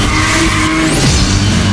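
A car drifting in the racing video game Need for Speed Shift, its loud engine roaring steadily while a tire squeal sweeps upward briefly near the middle of the short burst.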